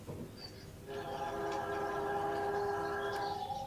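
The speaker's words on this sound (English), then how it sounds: "Somebody's on the train track. Got some background noise." A train passes in the background of a call-in line during a roll call vote, a steady horn-like tone and rail rumble swelling after the first second and holding loud to the end, with no talk over it.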